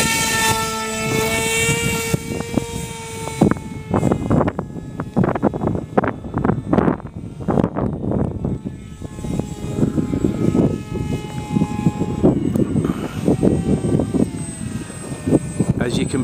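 An RC model airplane, the Night Rider, flies aerobatically at night with a steady, changing propeller whine and harmonic engine tone near to mid-distance, over wind buffeting, with people talking throughout.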